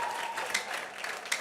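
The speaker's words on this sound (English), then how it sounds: "But please give a round of applause again to Debola." An audience applauds a speaker at a Lagos small-business bootcamp event, a short steady patter of clapping with a few sharper claps standing out.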